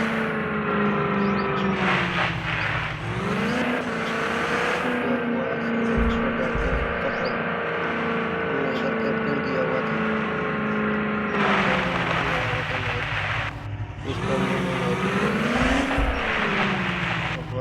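A car turns around and drives off as its engine hums steadily, then rises and falls in pitch through several gear and speed changes, loud and close throughout.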